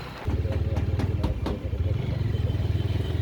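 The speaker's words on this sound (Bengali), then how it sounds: "তো বাইক নিয়ে বের হলাম সার্ভিস সেন্টারের দিকে" Close engine of a Loncin GP motorcycle thrumming in a steady, rapid pulse, with some brief clatter near the start and a slight dip midway.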